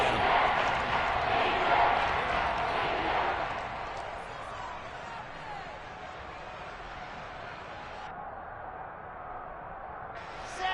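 A stadium crowd cheers in Madden 23 during a Chiefs v Jets game, a broad roar that swells early on and then gradually settles into a softer, steady background murmur.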